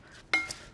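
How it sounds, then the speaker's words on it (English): A spoon stirring apple pie filling seasoned with nutmeg and coarse salt, giving one brief, sharp scrape and clink against the bowl amid soft kitchen background. "Mix everything together."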